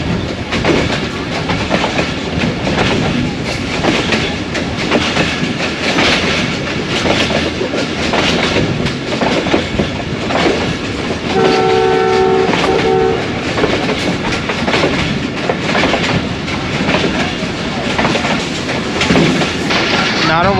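A train on the Narowal branch line rumbles steadily near Narowal Junction, its wheels clattering loud and continuous, with a brief horn blast partway through and faint voices underneath.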